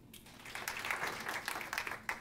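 Stand-up comedy audience clapping in reply to a show-of-hands question about who has Twitter; a short, fairly faint burst of crowd applause in a room.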